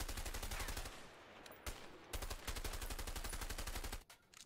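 Rapid automatic gunfire in the video game A Way Out comes in fast bursts of evenly spaced shots, with brief pauses between bursts and a short break near the end.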